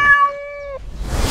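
A kitten stuck up in a tree gives a single clear, sustained meow close by, followed by a rush of wind-like rustling noise.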